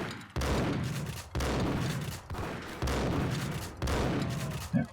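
Gunfire in Max Payne during a slow-motion shoot dodge: four loud bursts of shots a second apart, each a dense rattling volley, with brief gaps between them.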